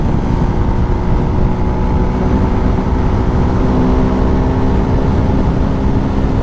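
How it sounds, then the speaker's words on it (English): A Husqvarna Svartpilen 401 motorcycle cruises at highway speed, its engine drone blended with heavy wind rush into a constant loud roar that never lets up. "just trying to give you a little bit more footage of some highway riding."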